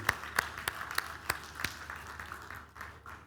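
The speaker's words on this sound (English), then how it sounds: "let's clap for that" Faint, sparse clapping from a small audience at a keynote speech, about half a dozen distinct claps in an uneven rhythm that thin out and fade toward the end.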